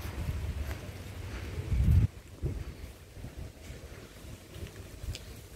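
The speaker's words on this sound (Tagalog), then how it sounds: "Malakas pang hangin." Strong wind roars and buffets the microphone in low rumbling gusts, peaking early then easing into a steady blustery background.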